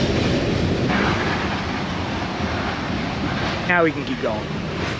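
A freight train rolls past nearby, a continuous rumbling wash of wheels and cars with some wind, and someone talks briefly over it.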